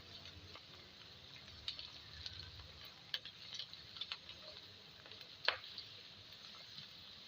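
Ginger garlic paste frying in a pan makes a faint, low sizzle. Soft ticks and scraping clicks of stirring come at irregular intervals, and there is no talking.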